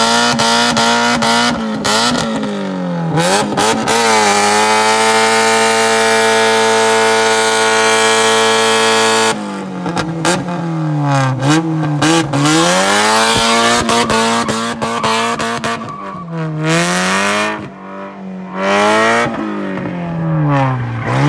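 A go-kart powered by a Mazda Miata engine revs loudly and close at an abandoned airfield, with long sustained high-rpm runs and repeated rising and falling revs and gear changes.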